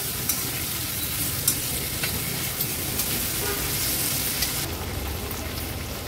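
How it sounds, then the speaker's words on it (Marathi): Washed vegetables sizzle steadily in hot oil for masale bhat, with light spoon scrapes and stirring clicks scattered through the continuous frying hiss, close and fairly loud, no voices. "व्यवस्थित परतून घ्यायच्या तेलावर"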